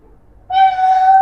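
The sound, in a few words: actor imitating a cat meowing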